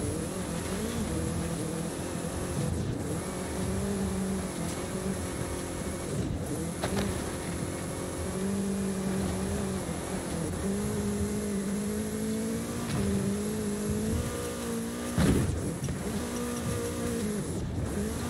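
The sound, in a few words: car driving in the video game Forza Horizon 5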